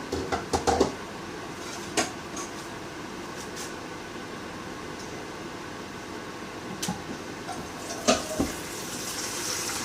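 Tap water runs into a kitchen sink while a pan is rinsed out, a steady, fairly soft rush broken by a few clinks and knocks of the pan.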